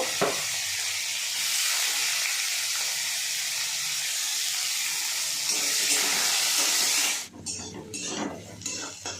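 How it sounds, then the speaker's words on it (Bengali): Chopped onions fry with a loud, steady hiss in a pan for Bengali beetroot bata, then the sizzle breaks off into clinks and scrapes of utensils against the pan near the end. "তারপর কুচানো পেঁয়াজগুলো ভেজে নেব।"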